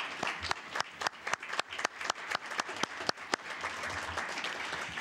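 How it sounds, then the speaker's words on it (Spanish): An audience at a formal report presentation on the right to truth in the Americas gives sustained applause, dense clapping from a crowd that carries on steadily for the whole stretch with a few sharper individual claps standing out. "Les pido un fuerte aplauso para ellas tres."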